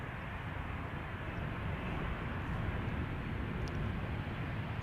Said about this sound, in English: KLM flight 1516. Embraer 175 arriving from Norwich.